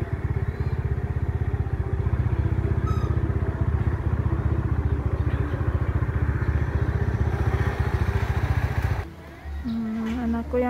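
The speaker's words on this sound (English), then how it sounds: "Anakku yang bawa motor," A small motorcycle engine chugs steadily up close at a public pool, a continuous mid-pitched putter that drops abruptly near the end, with voices and pool chatter around it.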